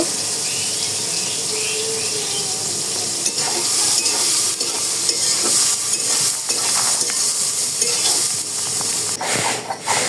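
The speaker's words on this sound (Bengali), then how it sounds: "ডালটা ভেজে নেব" Dal frying in a pan on a home stove as it is stirred: a continuous sizzle and scraping that runs steadily for the whole stretch, close and fairly loud, with no voices.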